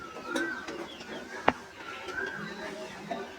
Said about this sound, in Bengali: এই যে এক জোড়া কবুতর।